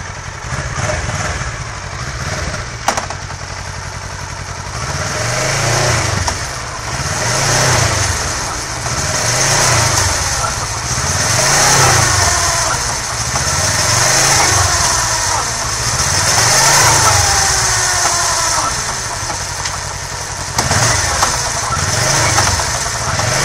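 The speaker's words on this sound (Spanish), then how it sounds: "mantiene su ralentín perfecto y no tiene ningún sonido anómalo en el motor" A Kawasaki ER6F ABS motorcycle, 2012 to 2015 model, idles close by with a steady, even engine note, then revs in regular swells as it is run through its gears.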